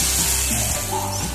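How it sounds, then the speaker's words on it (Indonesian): Hot oil poured over freshly ground chili sambal for ayam geprek sizzles loudly and continuously, a close, dense crackling hiss that holds steady throughout. "ini sambelnya langsung siram pakai minyak panas"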